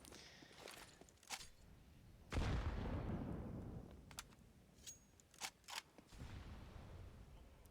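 Grenades burst in a Counter-Strike match on the Inferno map, one loud broadband blast that decays over about two seconds, surrounded by faint game sounds and brief clicks.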